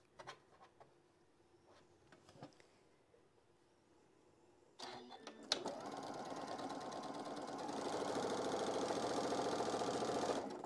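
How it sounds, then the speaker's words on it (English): A sewing machine stitches straight down two layers of fabric, preceded by faint handling clicks, then a steady close mechanical whir running continuously for the last several seconds. "you're going to sew all the way down and back tack and stop"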